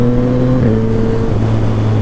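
A Yamaha FZ-09 motorcycle engine droning loud and close while riding, its pitch dropping sharply as it shifts gears.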